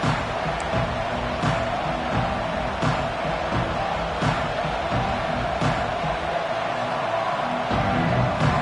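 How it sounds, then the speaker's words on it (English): Football stadium crowd roaring steadily throughout, a dense wall of broad noise with occasional sharper bursts of shouting and claps, loud and continuous with no clear speech. "This crowd ready to make its presence known."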